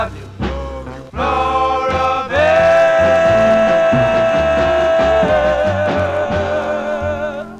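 Doo-wop vocal harmonies from a 1956 record fill the clip, with a sustained lead voice over a steady backing and bass, continuous and loud throughout.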